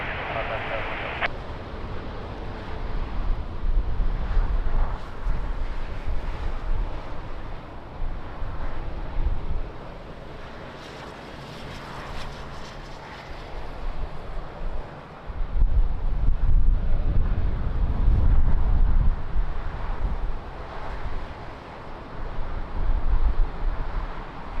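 Strong gusty wind at Lisbon Airport, buffeting the microphone with loud rumbling surges that rise and fall continuously, while radio voices talk faintly underneath.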